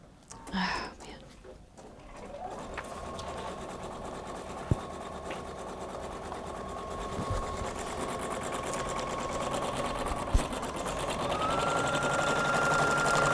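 A Husqvarna Viking Designer Brilliance 80 sewing machine stitches an applique outline, a steady rapid mechanical whir that starts after a brief rustle and runs continuously and fairly loud, with a couple of sharp clicks.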